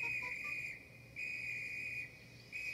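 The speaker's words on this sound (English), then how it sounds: "The conductor blew his whistle till he had no more breath" A train conductor's whistle blown in long, shrill, steady blasts, three sustained tones separated by brief breaths, heard clearly and alone.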